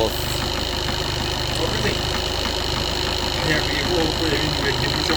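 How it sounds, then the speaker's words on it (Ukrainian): Skoda Octavia TDI diesel with 188,000 km idling on a cold start at minus 30 degrees, a steady rhythmic knocking clatter running throughout, close by, with someone talking over it. "і йде детонація в моторі"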